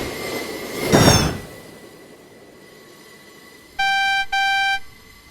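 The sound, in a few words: train derailing, wheels screeching, video game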